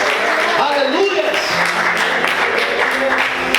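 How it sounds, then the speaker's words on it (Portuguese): A church congregation applauds during an evening worship service, a steady wash of many hands clapping at once under a preacher's voice. "Será que você pode aplaudir o Senhor e adorar o nome de Deus nessa noite?"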